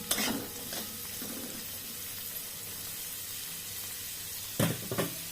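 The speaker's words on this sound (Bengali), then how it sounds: "সবজিগুলো আমার ভাজা হয়ে গেল" Vegetables fry in a pan for a semolina pulao, giving a steady, soft sizzle close by, broken near the start and end by a few louder scraping stirs.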